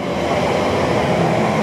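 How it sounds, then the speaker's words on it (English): A 9-car Elizabeth Line train rushes past at Hayes and Harlington station, a loud, steady broadband roar of wheels and motors, close by and continuous. "There goes the train, all 9-car purpleness of it."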